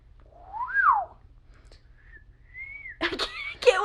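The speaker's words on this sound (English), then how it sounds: "And now I'll whistle." A person whistles a few rising and falling tones, fairly close and clear, followed by a short breathy burst of noise at the end.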